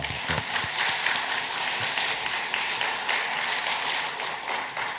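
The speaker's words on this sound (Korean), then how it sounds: "우리 감사와 또 격려의 박수 한번 하겠습니다" A church congregation at a Sunday service claps for its choir, a steady, dense spread of applause that holds evenly from start to finish with no talk over it.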